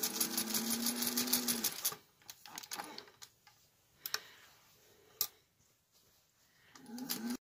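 A sewing machine stitches around the edge of a quilted placemat, a loud close run of rapid stitching that stops, then a few quiet clicks and taps before the motor starts again at the end.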